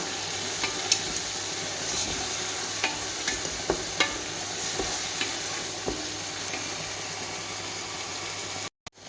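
Tomatoes sautéing in oil with salt in a pan for Dindigul chicken biryani, a steady close sizzle broken by sharp scraping stirs at irregular intervals, with a faint low hum beneath and an abrupt cut near the end.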